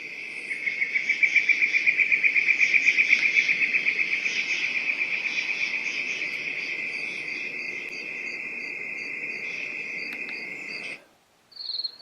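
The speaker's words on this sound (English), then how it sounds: "it's basically just like chirping grasshoppers, like out in the field" Grasshoppers in a pasture chirp in a rapid, steady pulsing trill, loud at first and easing slightly, before cutting off near the end.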